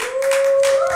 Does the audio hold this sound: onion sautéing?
no